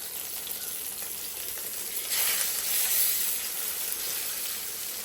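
Fish frying in a pan of oil gives a steady, bright sizzle and crackle that swells briefly in the middle, close and continuous with no talking.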